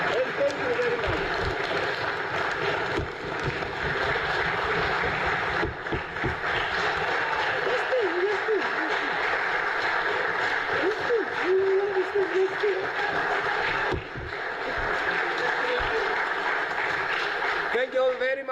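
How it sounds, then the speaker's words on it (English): Sustained applause from members filling a National Assembly chamber, a dense steady wash of clapping with scattered voices mixed in, holding strong for the whole stretch with only a brief dip partway through. "So please give her a round of applause"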